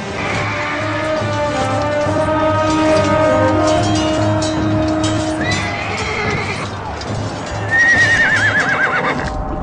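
Horses whinny loudly with shrill, wavering neighs over steady clip-clopping hooves and a busy background, a battlefield scene in a Middle Eastern historical drama.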